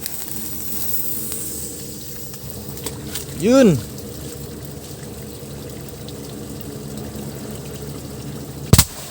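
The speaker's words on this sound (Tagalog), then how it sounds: "Firecracker mga boss." A firecracker goes off in water with a short, muffled thump, followed by a sharp, loud crack near the end, while someone talks casually over the steady outdoor background.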